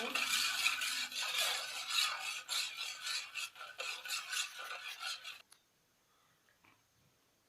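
Water, sugar and yeast mixture being stirred in a bowl, a steady close scraping and swishing that runs for about five seconds, then stops abruptly, leaving near silence.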